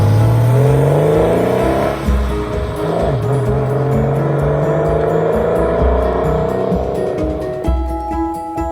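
A Porsche 993 Carrera 2S drives with its flat-six engine loud and close, revving up and down through gear changes with rising and falling pitch throughout, no voices.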